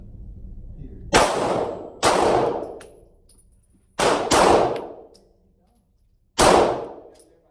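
A Smith & Wesson M&P 2.0 Compact pistol fires five loud, close shots, the last few followed by ringing clangs off a steel target. The shots come in uneven spacing, two of them a quick pair, and each one decays into a short echo.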